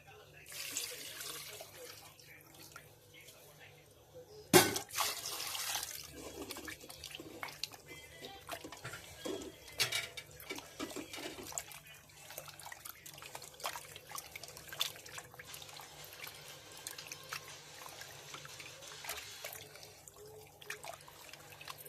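Pieces of goat mutton are washed under running water, with tap flow, splashes and trickles continuing throughout and one sharp clatter early on; a person talks at times.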